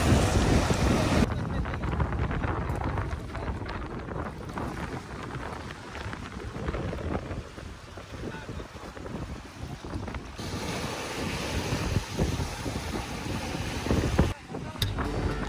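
A speedboat running on Lake Sentani in Papua, its steady engine and hull noise mixed with wind buffeting and water rushing past, loud and continuous throughout with a brief dip near the end.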